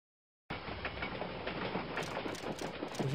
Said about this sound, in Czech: To je ten nejhorší zvuk vlaku, jaký jsem kdy slyšel.